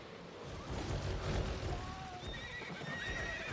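Horses gallop in a video-game mass battle in the style of Albion Online, hooves clip-clopping steadily with a whinny amid a busy, dense mix of game sounds.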